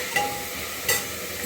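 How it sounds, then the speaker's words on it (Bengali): Chicken frying in oil in a pan, giving a steady low sizzle throughout with two brief brighter hissing bursts, close and fairly soft, with no voices. "দেখো মোটামুটি চিকেনটাও ভাজা ভাজা হচ্ছে"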